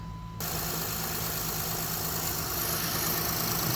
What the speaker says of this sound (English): Next thing I'm going to do is start the car.